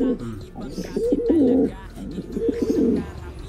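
A pigeon coos close by in two soft, throaty bursts of rolling calls, with someone speaking quietly in the background.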